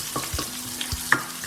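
A ground beef stir fry sizzles and crackles steadily in a hot pan while it is stirred, with a few sharp clicks from the utensil against the pan.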